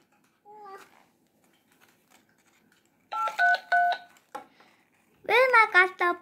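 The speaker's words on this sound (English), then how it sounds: "Dad got the phone. He phoned the police." A telephone being dialed: a brief tone, then a quick series of clear dialing beeps, followed by a voice speaking.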